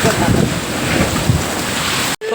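Strong wind from a sudden storm with rain roars and buffets close against the microphone, loud and continuous, then cuts off abruptly at the end.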